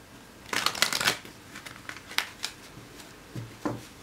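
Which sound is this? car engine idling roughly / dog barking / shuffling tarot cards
shuffling tarot cards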